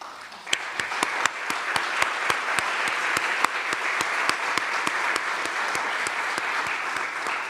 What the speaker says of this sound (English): Would all the elected officials that are with us tonight please stand for some applause?